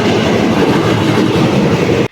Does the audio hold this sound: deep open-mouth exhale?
no